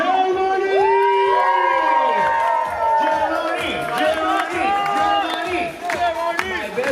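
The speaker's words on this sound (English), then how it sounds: "A big applause for Joe from Germany!" A lively crowd at a Cancun resort cheers and whoops loudly for a guest from Germany, with excited shouting voices and scattered clapping rolling on throughout.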